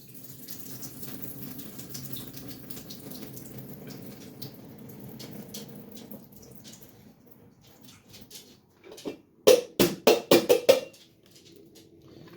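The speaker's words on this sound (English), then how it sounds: "I'm just draining off that water." Soaking water is poured off steeped split peas and barley in a kitchen, a faint trickle at first, then a run of louder splashing bursts near the end.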